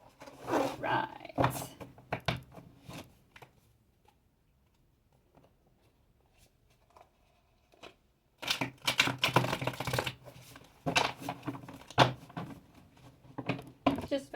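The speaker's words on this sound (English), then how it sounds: "Just about get everything shuffled." A deck of cards is shuffled in bursts of quick riffling and tapping, pausing through a quiet stretch in the middle before resuming loudly, with a person talking at times.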